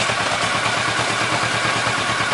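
A Kawasaki Versys 650 motorcycle engine runs steadily and loud at close range with a dense, even mechanical drone as gears are shifted, with no distinct revs or breaks.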